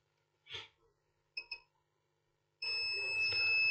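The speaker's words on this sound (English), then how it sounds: "Here it's beeping." A multimeter in diode mode beeps as its probes touch a water-damaged HP 14-bs091nia laptop motherboard. Two short, quick beeps come first, then a sustained steady tone, close and clear.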